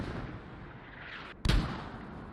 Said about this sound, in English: those mortars nicely moving down the north side of the hill